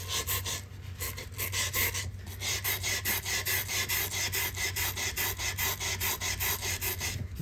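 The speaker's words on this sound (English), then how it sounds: "I'm filing away the grain." A wire brush rasps across the wood grain of a bass guitar body in quick, even back-and-forth strokes, close and steady with short pauses, and no talking.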